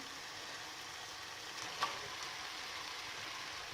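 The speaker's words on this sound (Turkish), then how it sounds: "Şöyle soğan ve biberimi koyuyorum." Onions and peppers sizzling in a pan for a chicken içli köfte filling, a steady even frying hiss with one brief small pop partway through, no voices.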